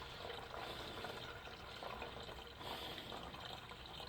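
Used engine coolant is poured back into a vehicle's cooling system during replacement of the upper coolant hose T assembly, a faint, steady liquid pour that continues without a break.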